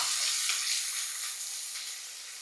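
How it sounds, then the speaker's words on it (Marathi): Finely chopped onion and curry leaves fry in hot oil with mustard seeds, cumin and asafoetida, a dense, steady, close sizzle that holds evenly throughout. "चिरलेला कांदा. 1 कांदा बारीक चिरून घेतला. कढीपत्ता घालूया आणि याला परतून घेऊ."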